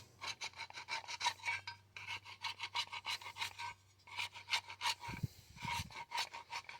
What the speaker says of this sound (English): I'm just going around one more time, real loosely, making sure the chisel doesn't catch on anything